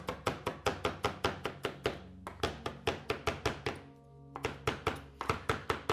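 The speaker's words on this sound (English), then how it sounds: "it's very easy to chop things. Mince things like herbs." A knife chops fresh herbs on a cutting board in quick, even thunks, close and crisp, with two brief pauses before the rhythmic chopping resumes.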